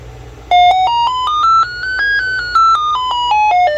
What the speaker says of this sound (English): when you turn it on, it takes a hot second for the little tone to go up and down